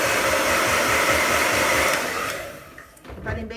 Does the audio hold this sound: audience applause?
no